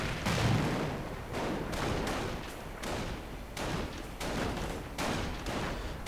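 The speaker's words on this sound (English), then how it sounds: "Volksgrenadiers firing away" Volksgrenadier infantry rifles crack in a dense, steady fusillade during a video game battle, with repeated overlapping shots and heavier thumps rolling through at a busy, loud pace.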